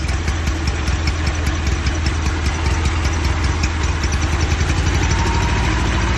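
A car engine freshly installed in an engine swap idles close and loud, with a steady, slightly uneven low throb running throughout.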